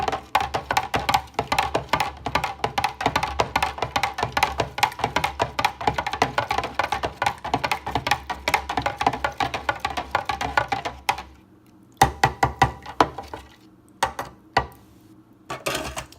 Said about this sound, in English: I stir my formula with this big spoon.